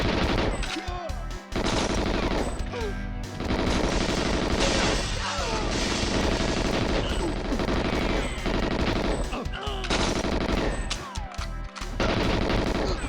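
Dense, loud gunfire fills a fast video game shootout in an arena shooter such as Quake Champions, Unreal Tournament, Goldeneye or Doom 64, with sustained bursts and booming shots running almost continuously, briefly dropping out twice.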